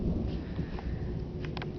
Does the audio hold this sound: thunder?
yes